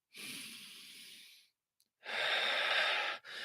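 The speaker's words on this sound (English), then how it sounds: "I'm breathing hard" Heavy, breathy human breathing in two long, loud exhalations separated by a short pause, close to the listener, with no talking.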